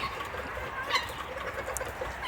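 Hens cluck restlessly at feeding time in a backyard flock, a busy mix of close and farther chicken calls over a low outdoor background, with one sharper squawk standing out near the middle.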